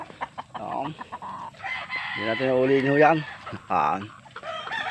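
Purebred breeder chickens cluck in bursts while a rooster crows clearly and nearby, its call rising and falling across the middle, with a person speaking intermittently underneath.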